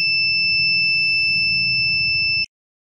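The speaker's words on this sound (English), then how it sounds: "once the gas level exceeds, the alarm turns on and the relay activates" A gas leak alarm in a smart kitchen automation system buzzes steadily as a loud, continuous electronic tone over a low hum, then cuts off abruptly after about two and a half seconds.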